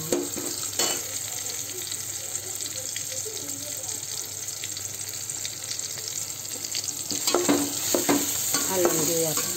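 Ginger-garlic paste is stirred into a frying tomato-onion masala, with a steady low sizzle and occasional spoon scrapes and clatters that grow busier toward the end.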